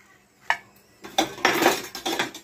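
A few sharp metallic clinks and scrapes come from a pan and utensil while khakra cooks with a little oil, a brief cluster of close, bright knocks.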